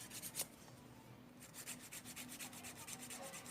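Someone files false nail tips with a nail file, steady close rasping strokes repeated in a quick rhythm, soft and quiet with no talk.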